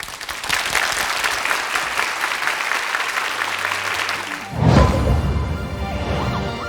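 An audience breaks into sustained applause to welcome a guest, dense clapping at an even level that gives way to a sudden swell near the end.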